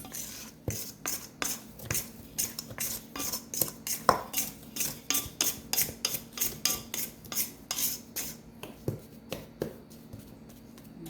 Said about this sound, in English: So next thing I'm going to do is kind of scrape the sides.